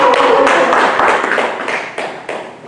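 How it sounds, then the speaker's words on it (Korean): An audience claps to welcome a lecturer at a Won Buddhist lecture gathering, a dense, loud burst of applause that holds steady, then thins and fades over a few seconds with no talk. "제산 김형진 강사님을 큰 박수로 모시겠습니다"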